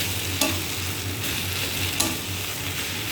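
A banana flower curry fries and sizzles in a pan, a steady frying hiss punctuated by a couple of sharp spoon-against-pan scrapes from stirring, close and without talking.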